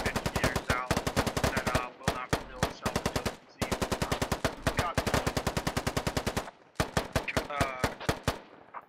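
Automatic rifle and machine gun fire in the military video game Squad, long rapid bursts of loud, close shots broken by brief pauses.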